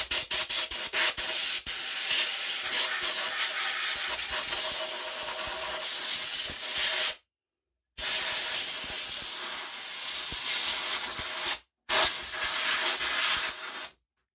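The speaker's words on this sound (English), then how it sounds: "Give it a nice spray with the air," Compressed air blasts dirt off a Stihl MS181 chainsaw in loud, continuous hissing bursts, close to the microphone, broken by two brief pauses.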